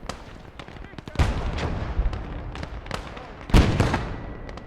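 Artillery piece firing in the World War II strategy game Blood Red Snow: two heavy booming blasts close by with rolling tails, among scattered sharper gunshots of battle.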